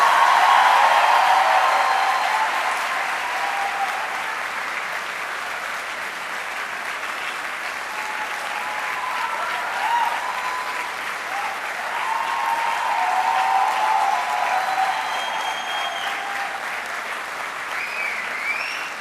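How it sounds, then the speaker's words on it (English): Students at a university convocation applaud the faculty in a sustained wave of clapping that starts loud, settles into a dense steady roar and lasts almost twenty seconds, with a faint voice briefly under it. "May I ask the students to give them an applause like nothing they have ever heard."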